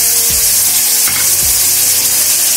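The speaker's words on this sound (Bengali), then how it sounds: "আর দিয়ে দিচ্ছি 2 টেবিল স্পুন ফেটানো টক দই।" Whisked sour yogurt is stirred into a cashew spice paste sizzling in a pan for a Bengali doi bhetki fish dish, giving a steady loud frying hiss with a few scraping stirs and no talking.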